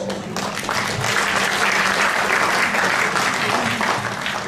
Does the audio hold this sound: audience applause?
yes